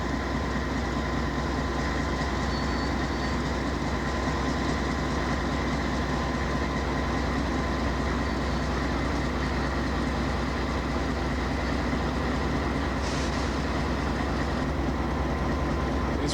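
CP Rail coal train cars rolling past at a mine loading area, a steady loud rumble with rhythmic wheel clatter and a brief squeal, with no pauses.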